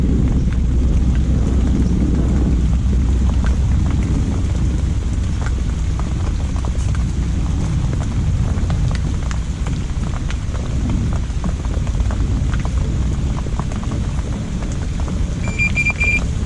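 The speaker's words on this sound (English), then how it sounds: "the rain's picking up a bit now" Heavy rain pours down in a steady, close, continuous downpour, with no pauses or voices.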